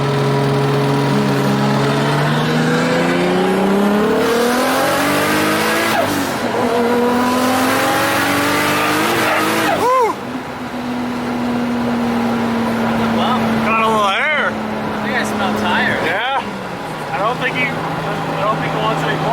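A Toyota Supra races a Dodge Charger, with loud engine tones climbing steeply through repeated gear changes and then revving again. A voice talks over the engines.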